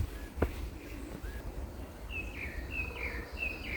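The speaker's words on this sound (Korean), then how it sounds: "그리고 산새 소리." Several mountain birds chirp and trill at a moderate distance along a forest path near Gaesimsa temple in Seosan, South Korea, with a short repeating song in the second half over quiet outdoor ambience.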